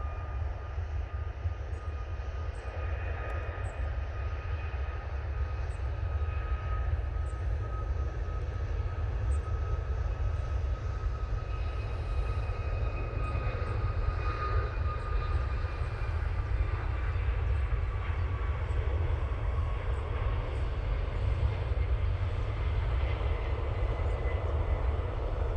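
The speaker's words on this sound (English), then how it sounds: "And there goes the TUI Max." A TUI Boeing 737 MAX jet departs Manchester Airport in low visibility, heard as a distant, steady low rumble of engines with a faint whine that holds throughout.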